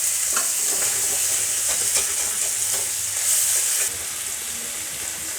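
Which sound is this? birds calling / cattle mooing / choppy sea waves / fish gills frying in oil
fish gills frying in oil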